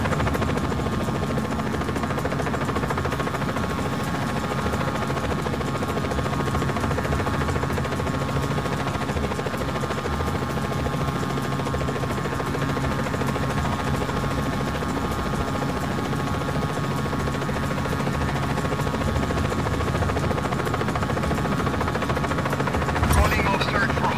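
A helicopter flies in the Just Cause 4 video game, its rotor and engine making a loud, continuous, steady drone that fills the whole stretch.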